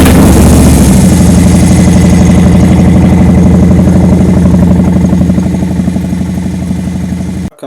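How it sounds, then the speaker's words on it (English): A 2018 Harley-Davidson Softail Fat Bob with a Stage 1 Screamin Eagle tune rumbles loudly up close, its big V-twin settling into a steady, lumpy idle that fades slightly before cutting off abruptly at the end; no talk. "and I'm going to go ahead and start it up."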